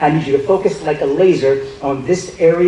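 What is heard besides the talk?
No distinct noise like a dog, phone or traffic.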